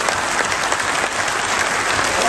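A crowd at a political rally claps in a loud, thick burst of applause that carries steadily through the whole moment, with no speech on top.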